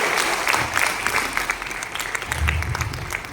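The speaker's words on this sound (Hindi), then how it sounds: "तालियां बजाएंगे।" Loud, close applause from an audience at a Hindi poetry gathering (kavi sammelan) in Delhi, a steady dense patter of many hands throughout, with faint low murmurs beneath.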